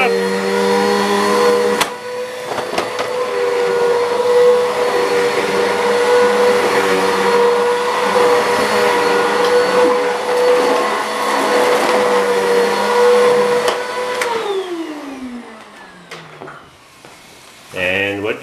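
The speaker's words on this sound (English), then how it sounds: "We're vacuuming the laundry room." A vacuum cleaner runs in a laundry room, a loud steady motor drone that holds for about fifteen seconds, then winds down with falling pitch before a brief restart, while voices talk briefly over it.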